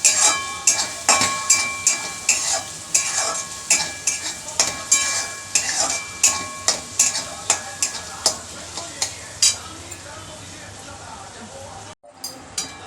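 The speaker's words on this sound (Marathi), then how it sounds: "आता आपला मसाला चांगला परतून घ्यायचा आहे." Masala of garlic cloves and cumin seeds fried in a pan, stirred with a spoon that knocks the pan in a steady rhythm over a constant sizzle, close and loud, the stirring stopping near the end.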